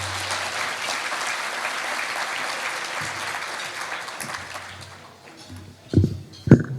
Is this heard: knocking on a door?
no